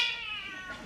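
A cat giving a single drawn-out meow, close and clear, falling in pitch and tailing off within a second.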